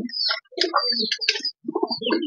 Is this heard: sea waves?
no